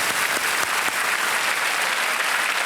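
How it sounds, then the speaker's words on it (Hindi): Studio audience applause on the Hindi quiz show Kaun Banega Crorepati, a dense, steady wash of clapping that holds at full strength for the whole stretch with no voices over it. "तालियां बज जाएं इनके लिए"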